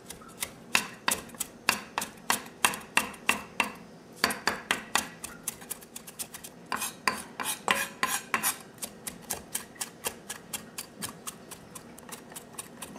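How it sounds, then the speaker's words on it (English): A knife chops fresh parsley on a cutting board in a home kitchen. Quick, crisp taps come in fast rhythmic bursts with brief pauses, close and clear, with no talk. "get rid of this knife, because it's not good for chopping parsley"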